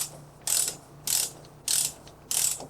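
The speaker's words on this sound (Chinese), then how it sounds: "我们可以使用套筒加上棘轮扳手" Ratchet wrench fitted with a 30 mm socket loosening a faucet nut, four bright rasping ratchet strokes evenly spaced about half a second apart, close and clear with no talk.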